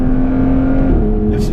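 An Aston Martin Vanquish S engine with stock exhaust revs loudly up close with a deep, steady exhaust drone and a slight rise in pitch near the end.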